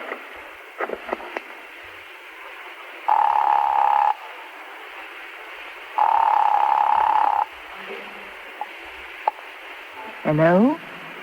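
Telephone dialing in a 1940s espionage radio drama: two steady tone bursts about a second long, separated by a pause, then a brief rising warble at the end, all over quiet background with no speech.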